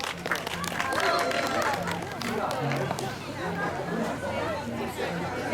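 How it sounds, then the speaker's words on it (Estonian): A crowd applauds and chatters at an outdoor school running race, steady clapping mixed with babble and a voice over a loudspeaker. "Aplaus veel kord."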